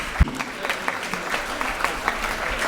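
A crowd applauds a chess tournament winner at a prize distribution ceremony, a steady, fairly loud burst of clapping from many hands, close and continuous for the whole moment.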